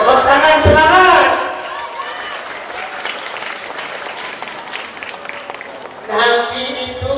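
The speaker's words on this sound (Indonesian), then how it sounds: "Tepuk tangan semangat." An audience at a school Maulid Nabi celebration bursts into clapping for about a second and a half, then a long stretch of softer scattered applause and crowd noise follows before voices rise again near the end.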